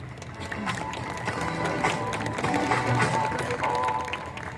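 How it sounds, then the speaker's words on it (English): Audience applause at a school graduation ceremony, a steady wash of clapping from a large crowd with some cheering, building over several seconds and sustained at a fairly even level. "with a huge round of applause"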